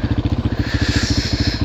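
An ATV engine running while riding, close and loud, with a fast, regular pulsing thump from the exhaust and a rattling, clattery edge that keeps a steady beat throughout.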